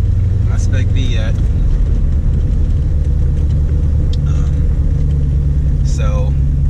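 An LS-swapped Datsun 280Z rumbles along a winding road, its low engine drone steady and loud from inside the car while someone talks over it.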